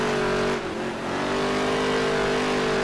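Stock cars lapping in NASCAR Heat 3, a loud sustained engine drone with steady tonal whine and a brief dip as a lapped car is passed on the inside, no talking.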